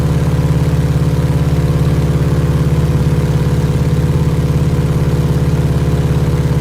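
A steady, loud drone from the Stearman biplane's engine holds at about 2,100 RPM in a flight simulator, an even rumbling hum with no change in pitch.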